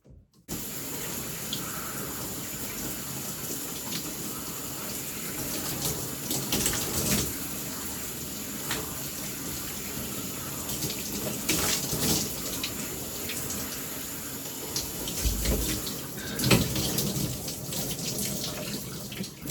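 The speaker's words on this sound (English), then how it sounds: "now I'm just going to pop in and rinse" Water running steadily from a tap or shower while hair is rinsed, a continuous close splashing hiss with louder gushes and shifts as the flow is interrupted, and no talking.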